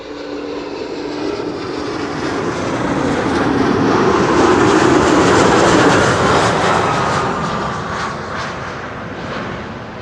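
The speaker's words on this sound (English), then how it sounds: "This is KLM Flight 900 arriving from Inverness in Scotland and Embraer 190." A KLM Embraer 190 landing at Schiphol roars past, its jet engine noise building to a loud peak midway and then tapering off, with no one speaking.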